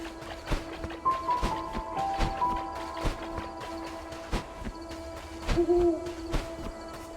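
Owls hoot repeatedly in the video game Death's Door, several soft, steady tones drawn out over a low ambient background with faint footsteps, with no voices.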